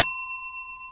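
A single bright bell strike in the game Inscryption, a sharp metallic ding with a clear ringing tone that fades over about a second, heard alone.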